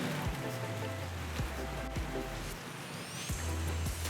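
Steady rain falling outdoors, a continuous close hiss of drops with a few soft taps, no voices.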